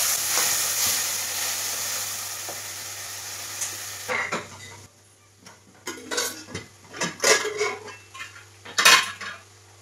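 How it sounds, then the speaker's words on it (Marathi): Curry leaves, red chillies, turmeric and ginger-garlic-coconut paste fry in a tempering, opening with a loud sizzling hiss, then the frying fades as a spoon scrapes and clinks repeatedly against the pan. "त्यानंतर कढीपत्ता, ह्या लाल मिरच्या घेतलेल्या आहेत त्या आता टाकलेल्या आहेत आणि थोडीशी हळद आणि हे आलं लसूण खोबऱ्याची पेस्ट"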